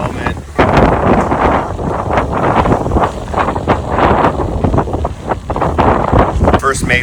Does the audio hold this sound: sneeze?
no